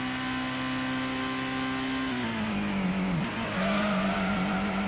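Race cars in the PS1 game Gran Turismo, on a reverse high-speed ring track, give a sustained engine drone whose pitch holds, dips, then climbs again as cars run laps, loud and steady with no voices.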